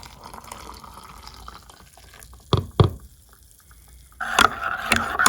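About a cup of hot water is poured into a mug for an instant pumpkin spice latte: two short knocks, then a steady splashing pour over faint room noise.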